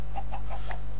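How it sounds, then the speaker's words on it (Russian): A Minecraft chicken clucks in a few short, evenly spaced bursts over a steady low hum. The clucks sound fairly clear and close. "Блин, курица."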